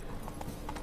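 Hooves of a horse trot in The Witcher 3 in a brief, even clip-clop of a few beats, heard close over a steady game background.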